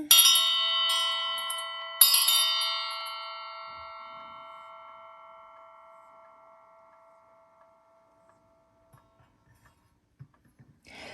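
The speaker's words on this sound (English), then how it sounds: "I'm going to go ahead and ring the bell in 4, 3, 2, 1." A bell is struck twice, about two seconds apart, each ring bright and loud up close, then a long shimmering tone decays slowly into near silence, with a few faint taps at the end.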